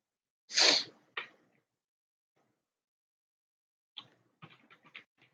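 One sharp, loud sneeze close by, followed by a brief sniff, then quiet before a person starts talking softly.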